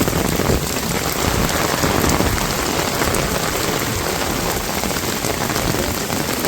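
Steady heavy rain falls on a village, a dense, loud, unbroken hiss of drops on surfaces with no voices.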